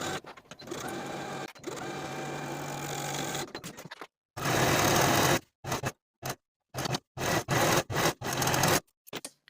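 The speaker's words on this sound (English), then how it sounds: "Then we'll sew from the bottom of the sleeve across that underarm seam into the bottom of the garment" A sewing machine stitches the side seam of a woman's top, from sleeve bottom across the underarm into the hem, in a long run followed by several short bursts with pauses between them, loud and close.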